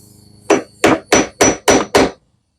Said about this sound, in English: Gonna also need a hammer.